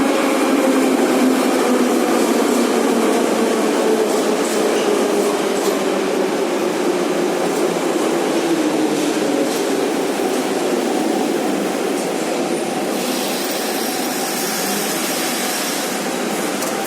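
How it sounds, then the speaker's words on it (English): A Kiev metro train accelerates with a loud, steady DC traction motor whine rising in pitch over the roar of the carriage, with no voices. "exact same awesome acceleration and DC motor sound as the Type E"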